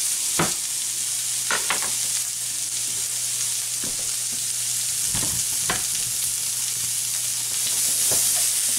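Uniformly chopped vegetables sizzle in a hot skillet, a steady close hiss of frying with occasional scraping stirs and clinks, no talking.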